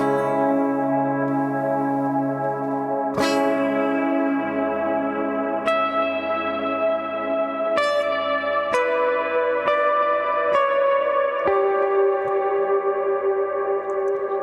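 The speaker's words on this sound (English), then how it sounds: "we went a digital delay. Now you could mess with this, increase the mix" Sustained guitar chords ring out through a digital delay on a Quad Cortex with the mix turned up, repeating echoes trailing behind each new strike, a heavy wash of delayed repeats layered over the notes.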